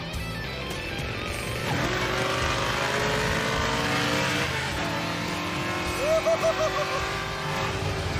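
A 1972 Plymouth Duster's engine roars and climbs in pitch as it accelerates hard, with rising revs and a brief stuttering burble near the end.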